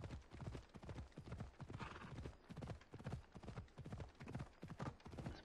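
A horse in Assassin's Creed Odyssey gallops along with rapid, evenly repeating hoof clip-clops, steady and close, running for several seconds without talk over it.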